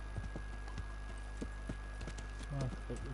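Horse hooves clip-clop in the video game Kingdom Come Deliverance, a rhythmic series of hard knocking steps at a walking pace, moderately close, with a voice talking over them at times.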